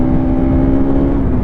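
A 2025 Bajaj Pulsar RS200 motorcycle accelerates up through its gears, a steady, loud engine drone with a sustained tonal whine, heard close and continuous with no talk over it.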